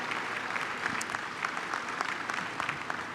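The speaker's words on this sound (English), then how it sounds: "please join me in acknowledging all of these organizers, leaders, and volunteers for another round of applause" Audience applause for organizers, leaders and volunteers at a university orientation convocation, a dense steady clapping from a sizable crowd heard at moderate distance, with no voices.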